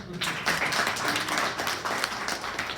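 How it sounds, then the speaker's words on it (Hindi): Applause from an audience in a hall, a dense, steady wash of many hands clapping together at even loudness for the whole stretch. "तो इनके लिए एक बार जोर से ताली बजाएं।"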